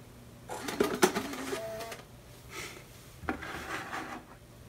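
A disc ejecting from the slot drive of a late 2006 iMac, with a faint whirring spin-down and several mechanical clicks and rubbing sounds in short bursts, close and quiet.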